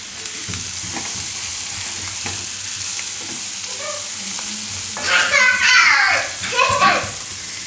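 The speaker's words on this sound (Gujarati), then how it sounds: "તો થોડીક વાર ડુંગળીને આમાં પાકવા દેવું." Chopped onion frying in a pan for a sandwich filling, a steady close sizzle with occasional stirring scrapes. Someone talks over it and children's voices rise briefly in the background.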